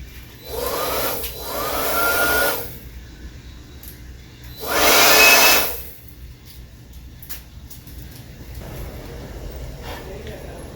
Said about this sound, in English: For such a small, compact blower, pretty powerful.